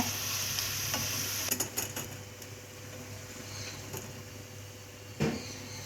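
Food frying in a small amount of oil until crispy gives a steady, fairly quiet sizzle with occasional clinks of a utensil stirring, and no one speaks.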